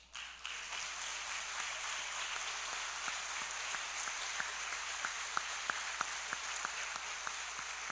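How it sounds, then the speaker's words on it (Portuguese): A church congregation claps for Jesus, the applause faint and distant at first, then settling into a rhythmic beat of regular claps over a steady background hum. "dar uma linda salva de palmas a Jesus"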